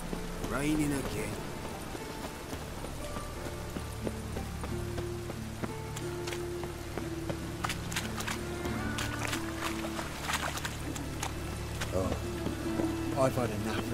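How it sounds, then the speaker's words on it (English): Steady rain falling in The Witcher 3 video game, a constant patter with scattered drop ticks and occasional hoof clip-clops, heard under characters talking throughout. "Raining again."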